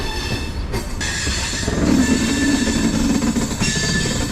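Chennai to Calicut express train 12685 pulling out of Chennai Central station, a steady loud rumble of rolling stock with faint metallic ringing and squealing tones from the wheels, no voices.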